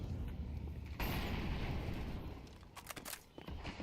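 Counter-Strike match gunfire, with a heavy burst of booming shots and explosive noise at the start giving way to scattered sharp cracks, heard at a distance and fairly quiet.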